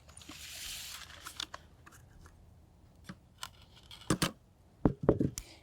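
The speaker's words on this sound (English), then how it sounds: "So I'll cut off a length of wire." Cutters snipping a length of wire for a topiary base, a few sharp clipped snaps and small metallic clicks near the end after quiet handling rustle.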